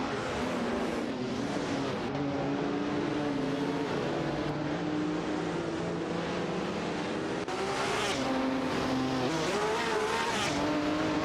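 Race cars in an AI-driven racing video game, a continuous loud engine roar with shifting pitch as cars overtake one another, and hints of tire squeal, with no talking.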